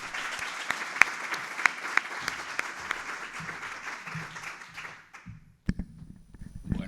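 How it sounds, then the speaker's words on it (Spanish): A live audience applauds a speaker at a talk on witchcraft and Inquisition trials in La Sagra, steady dense clapping for about five seconds, then fading to scattered claps and a short murmur of talk. "Un fuerte aplauso para Felipe Perea."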